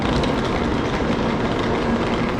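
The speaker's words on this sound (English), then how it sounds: "I think that is the Shinkansen train." Steady rumbling rail noise from a Shinkansen bullet train close by in Japan, a continuous broadband roar with faint rhythmic wheel clatter, no voices.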